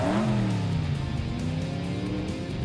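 A cartoon Hot Wheels race car engine revs loudly and steadily, its pitch climbing and wavering as it roars up close throughout the short burst.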